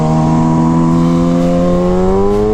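A Kawasaki ZX-6R motorcycle engine revs loud and close, a strong steady drone that climbs gradually in pitch as the throttle opens.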